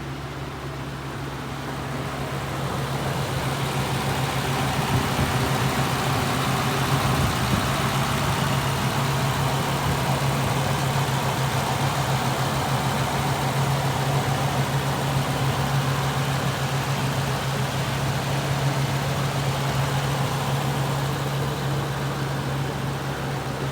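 A 2018 Ford E-450 16-foot box truck's 6.8-liter V10 engine idles steadily with a low, even rumble and a constant hum, running alone without any talk.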